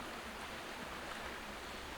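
Steady, broadband rush of a river flowing through jungle near a trail and creek, a continuous even wash of water with no voices, moderately close and unchanging throughout.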